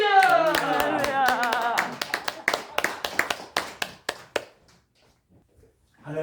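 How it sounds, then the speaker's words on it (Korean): A church congregation claps in sharp, rhythmic bursts to welcome a pastor to the stage. Voices call out over the start before the claps thin out, grow sparse and stop, leaving near silence. "등단할 때 크게 박수를 우리 하겠습니다"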